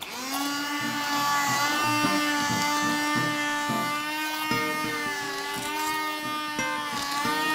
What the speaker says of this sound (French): vous pouvez commencer à mixer